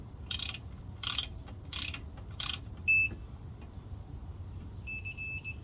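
A ratchet wrench tightens wheel bearing bolts on a Lexus SC430 in four short, close clicking bursts, followed by a couple of bright electronic beeping tones.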